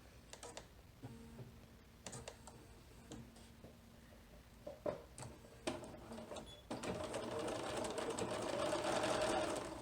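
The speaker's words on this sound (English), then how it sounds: "So I'm going to sew that next, and do back stitch when you start and stop" A sewing machine stitches a zipper pencil bag. Scattered mechanical clicks and short machine bursts come first, then a steady, continuous whirring run of stitching, heard close up.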